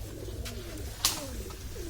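Pigeons coo softly at a rural farm house, a faint low murmur over quiet outdoor ambience with a brief sharp click midway.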